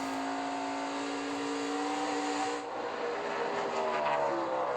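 NASCAR Cup Series stock cars roar past at racing speed, with a steady, loud engine drone whose pitch climbs and then dips before rising again. No one talks over it.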